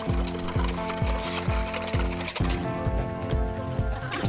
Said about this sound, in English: So whisk it up.